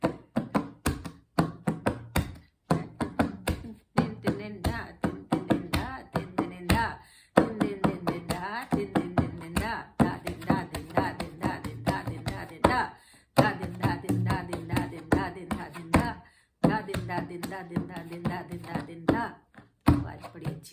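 Punjabi bhangra-style dholak played with closed bass strokes, a steady rhythmic stream of sharp, close taps and thuds in repeating bursts with short pauses between phrases.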